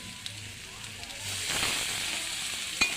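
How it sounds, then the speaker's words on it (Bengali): Tomatoes frying in oil in a pan, a faint steady sizzle that swells slightly midway, with a sharp utensil tap at the end, close and quiet, no talking. "আমি একটু ভেজে নেবো আর একটু, টমেটোটা এরকম লাল লাল করে ভেজে নেবো"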